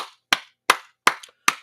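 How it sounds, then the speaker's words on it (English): Five sharp, separate claps spaced evenly about every 0.4 seconds during a live raffle event, with no voices between them; they sound more like a single person clapping than a full audience. "we give a big round of applause, everybody"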